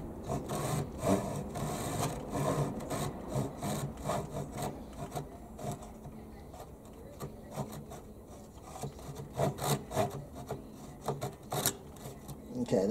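A Harbor Freight 10-inch, 15 TPI pull saw cuts through a wooden board with light pressure, giving close, rhythmic rasping strokes that repeat steadily with short pauses between pulls.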